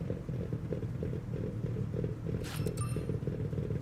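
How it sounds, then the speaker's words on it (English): A low, rumbling car engine in the video game Forza Horizon 6 idles steadily with a throaty pulse, joined briefly by a few faint high squeaks near the end. "This thing sounds good too. Just listen to that idling noise."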